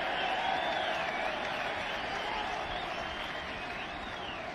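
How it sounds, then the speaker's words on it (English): Football stadium crowd applauding Ronaldo at a Real Madrid match, a dense, continuous wash of clapping and cheering from a large crowd, steady and loud throughout. "Denmark crowd here enjoying a bit of flamboyance from Ronaldo."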